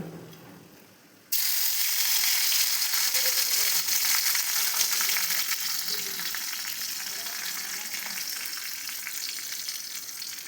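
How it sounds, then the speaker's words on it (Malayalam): Fenugreek seeds and curry leaves drop into hot oil in a pan, bursting into a loud, steady crackling sizzle that holds strong for about nine seconds after a quiet start. "എണ്ണ ചൂടാവുമ്പോൾ നമുക്ക് ഉലുവ ഇട്ട് കൊടുക്കാം ഉലുവ ഒന്ന് മൂത്ത് വരുമ്പോൾ കറിവേപ്പില ഇട്ട് കൊടുക്കാം"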